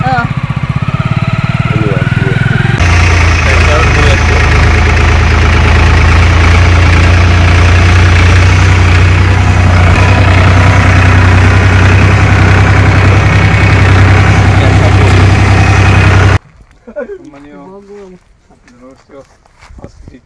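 A motorcycle engine idles loudly with a steady, heavy rumble for a long stretch, overlapping with people talking, then cuts out, leaving quieter voices.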